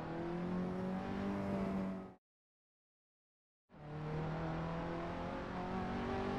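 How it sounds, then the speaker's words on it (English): Engine of a KTM X-Bow GT4 race car in the Assetto Corsa driving game, a steady droning tone that cuts out completely for over a second and then resumes at the same level. "The motor sounds quite KTM-y."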